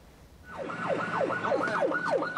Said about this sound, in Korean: 쉴 새 없이 사이렌을 울려보지만 소용이 없습니다